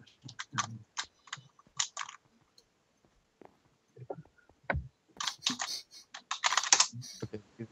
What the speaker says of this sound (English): I've been typing too fast.